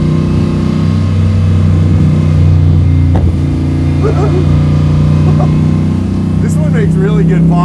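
A Superformance Shelby Cobra MkIIIR with a 7.3L Godzilla V8 idles loud and close, its deep exhaust rumble broken by a few crackling pops, while people talk nearby.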